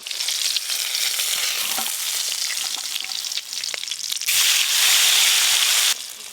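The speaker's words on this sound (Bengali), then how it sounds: "একদম গরম গরম ইলিশ মাছ ভাজাও হয়ে গেল, এবার তুলে নেব।" Hilsa fish frying in hot oil, a loud, dense crackling sizzle heard up close, swelling louder toward the end with occasional scraping, no voices.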